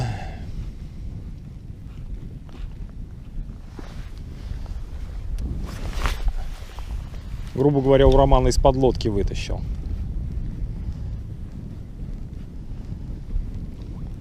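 Wind buffeting and rumbling steadily over a boat on a lake during spinning-rod pike fishing, low, loud gusts with microphone wind noise throughout, while someone talks over it.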